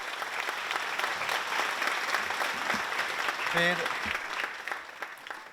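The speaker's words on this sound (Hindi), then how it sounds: "जोरदार तालियां उनके लिए।" Steady audience applause at an award ceremony, a dense wash of clapping hands lasting several seconds at moderate level, with a brief spoken word over it.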